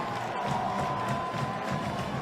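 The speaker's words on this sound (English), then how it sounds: "It is a packed house here at Fleming Island. A great crowd on hand for senior night." A packed home crowd at a Fleming Island high school football game on senior night sends up a faint, distant, sustained roar of cheering beneath the noise of the stadium.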